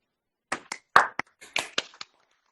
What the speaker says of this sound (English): give Dan a round of applause to thank him for such a great lecture